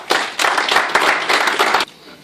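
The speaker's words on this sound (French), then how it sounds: "Je vous demande d'applaudir encore une fois." Applause from an audience at a political speech about Étienne Tshisekedi, a dense burst of clapping lasting under two seconds that swells in waves, then cuts off abruptly.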